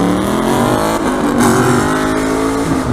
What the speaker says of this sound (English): I hate loud cars.